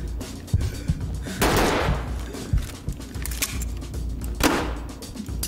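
Gunfire in the tactical shooter Ready Or Not, with sharp single shots and two longer bursts of crackling fire ringing out at close range.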